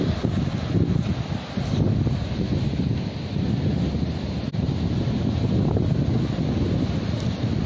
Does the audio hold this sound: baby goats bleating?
no